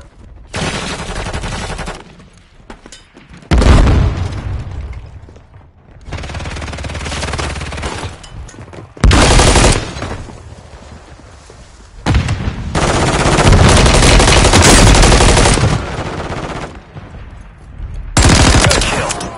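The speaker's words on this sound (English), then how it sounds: "Taking effective fire!" Loud bursts of automatic gunfire in Warzone come in repeated heavy volleys separated by short quieter gaps. The shooting is close and dominant, with no talk over it.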